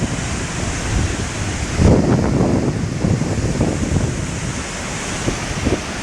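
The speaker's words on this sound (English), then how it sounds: "that water shear is powerful" Dam spillways carry the flooded Clutha River, also called the Molyneux, in New Zealand, making a loud, constant rushing roar mixed with heavy wind buffeting on the microphone, surging a little louder partway through.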